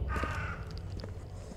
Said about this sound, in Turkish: Oy, kuşlar var.